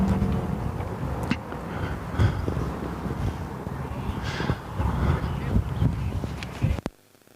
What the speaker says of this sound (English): There's a slight side wind.